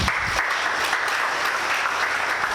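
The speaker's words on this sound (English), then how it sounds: "Give them a round of applause." Audience at a youth conference applauds steadily and loudly for about two and a half seconds, a dense wash of clapping with no speech over it.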